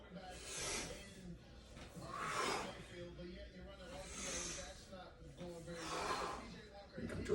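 Heavy breaths are drawn in and pushed out during a squat exercise, four loud airy exhalations in a steady slow rhythm, close to the microphone.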